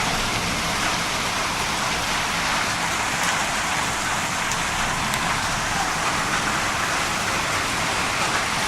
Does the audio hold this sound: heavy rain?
yes